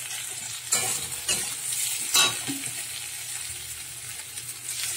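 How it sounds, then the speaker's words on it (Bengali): Potato and brinjal pieces with turmeric and green chillies fry in a pan, stirred with a few distinct scraping strokes over a steady close sizzle. "ভালো করে নাড়িয়ে চাড়িয়ে নিচ্ছি"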